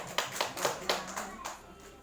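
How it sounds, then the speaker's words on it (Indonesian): Applause from a small group, likely a classroom or school gathering, honoring a teacher: a short burst of several hand claps in uneven rhythm, fairly close and moderate in loudness, fading after about two seconds. "Ya, tepuk tangan untuk Bu Yuli"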